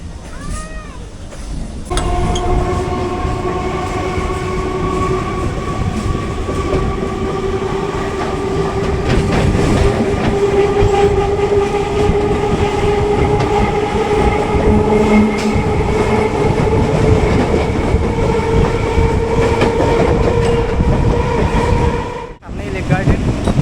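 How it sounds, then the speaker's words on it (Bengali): A Sealdah–Budge Budge local train rumbles along the rails while turning, with sustained wheel squeal and steady clatter, loud and close, easing off near the end. "আর ট্রেনটা ঘুরে যাচ্ছে"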